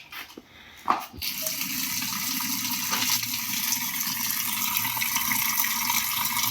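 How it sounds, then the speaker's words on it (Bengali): Water pours steadily onto a fish feed mixture, a close continuous rushing splash that starts after a brief clatter and keeps going to the end. "এখন আমরা জলে রাখছি।"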